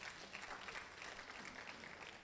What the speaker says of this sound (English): Give her a better round of applause